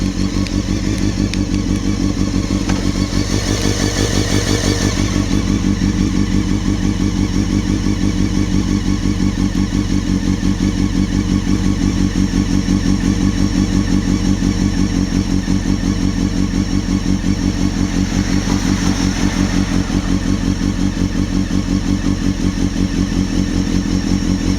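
A Honda CBR600 motorcycle with a Devil exhaust idles close by, a loud, steady, throbbing burble that runs unbroken throughout with a couple of slight swells.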